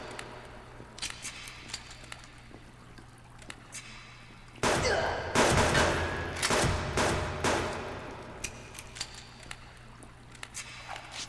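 Gunfire in a survival video game set during cave exploration: a dense burst of loud shots and impacts in the middle, with scattered sharp clicks and clangs before and after over a steady low hum.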